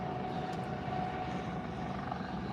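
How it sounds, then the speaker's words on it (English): A loud helicopter flying over a beach, a steady dense rumbling drone that holds constant throughout without any talking. "that was kind of a loud helicopter. I was waiting for that helicopter to go over"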